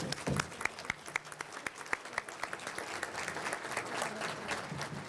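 An audience applauds committee members standing at a Rotary gathering, with dense, steady clapping from a room full of people and a few sharper close claps.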